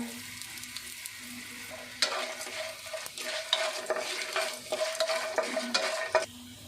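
Dried red chilies and a pinch of asafoetida fry in a pan for curry leaf rice, crackling quietly at first, then joined by brisk, repeated scraping and stirring strokes with a steady sizzle.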